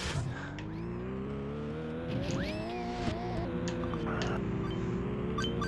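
Race cars in the Nintendo 64 racing game Micro Machines 64 Turbo give a steady, buzzing engine drone that climbs and falls in pitch as they speed around the track, continuous and fairly loud with no talk over it.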